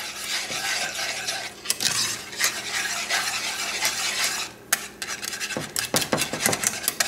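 Cream cheese and milk stirred together in a bowl for pizza sauce, with repeated scraping and clacking strokes of a utensil, close and fairly loud, in uneven rhythm.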